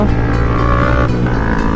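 A sports touring motorcycle engine hums loudly and close by with a steady, throbbing drone. The pitch shifts slightly partway through.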